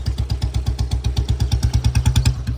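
A 1994 Royal Enfield Standard Bullet single-cylinder motorcycle pulling away in first gear as the clutch is let out slowly, its steady low thumping beat close and loud, with no talk.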